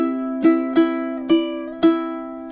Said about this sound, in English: while directional strumming might look and sound like this.